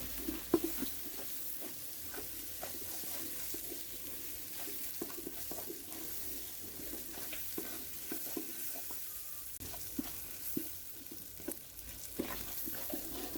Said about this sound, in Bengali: এখন চালটা আমি ভেজে নেব।